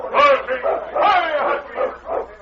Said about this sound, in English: You must have a vicious husky there.